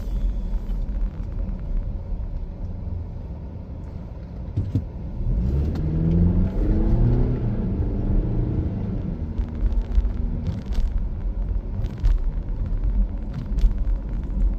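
A car engine idles steadily with a low rumble throughout, rising slightly in the middle as if revving a little, close and continuous with no talking.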